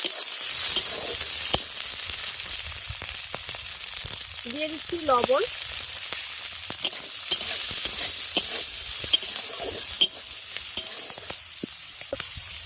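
Green peas fry and get stirred in a pan with chira, a steady sizzle running throughout with scattered scraping clicks, while someone speaks briefly over the cooking.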